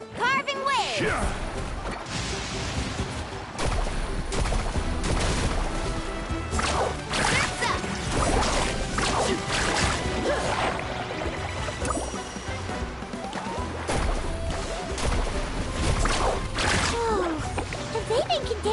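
Water splashes and crashes as a character surfs and carves across waves in the Genshin Impact video game, with repeated whooshing sprays and sharp slaps over a busy, loud game soundtrack and effects.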